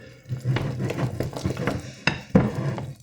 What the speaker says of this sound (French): Donc maintenant, on va mélanger le tout.